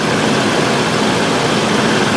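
A 1997 Mercury Grand Marquis engine idles steadily with a slight skip, a loud, close, continuous low rumble running without a break and with no voices over it.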